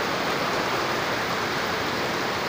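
Rushing floodwater swollen by heavy rains during Storm Julina, a loud, steady roar of churning water with no break and no voices.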